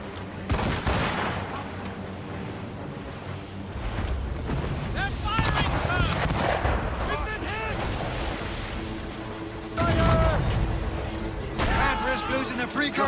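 Broadside cannon fire from sailing warships during a naval battle in icy waters in Assassin's Creed Rogue, with repeated booming volleys and rumbling blasts over sea and crew voices shouting.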